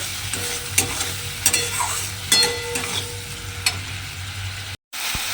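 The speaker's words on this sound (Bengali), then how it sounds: "দিয়ে এবার সমস্ত কিছু খুব ভালোভাবে একটু কষিয়ে নিতে হবে।" Spice paste with sour yogurt stirred and fried in a pan for a potol paneer dish, giving a steady low sizzle broken by soft scraping strokes of the spoon every second or so, close by with no voices.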